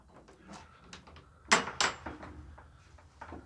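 An old church's recent pine door is opened, giving a couple of sharp wooden knocks and a creak amid quieter handling sounds, heard close in a quiet interior without talk.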